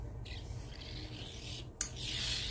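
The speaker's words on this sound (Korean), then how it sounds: "다 됐으니까 얘를 한번 대림질을 이렇게" An iron glides across an altered long shirt, a soft rubbing swish over a low hum, followed by a brief sharp hiss of steam near the end, close and quiet.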